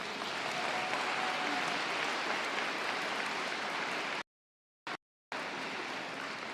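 Sustained applause from the audience at a FIRST Tech Challenge robotics championship, steady and dense throughout, with two brief cuts to complete silence near the end.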